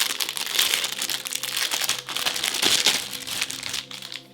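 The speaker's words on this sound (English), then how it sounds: "Let's go ahead and unwrap the cables." Plastic packaging crinkles and rustles steadily up close as cables for a Razer BlackWidow V4 Pro keyboard are unwrapped.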